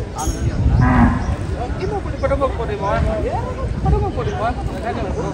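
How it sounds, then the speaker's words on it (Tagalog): A hairless-looking water buffalo at a livestock stockyard lows and grunts nearby while people talk over it throughout. "Kalabaw na mukhang wala ng balahibo."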